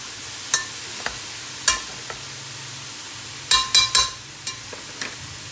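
Karahi keema being fried and stirred in a wok, with sharp metallic clinks and scrapes of a spoon against the pan in irregular clusters over a soft sizzle.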